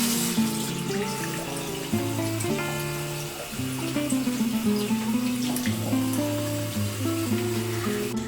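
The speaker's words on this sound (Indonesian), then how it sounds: "Mencuci tangan dengan air mengalir sangatlah sederhana." Hands washed under a running water tap, a steady rush of flowing water heard beneath a louder tonal melody that plays throughout.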